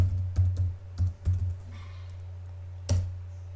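A few separate keystrokes on a computer keyboard while typing a sudo apt install command into a Linux terminal, close and fairly faint, as isolated taps with gaps between them over a steady low hum.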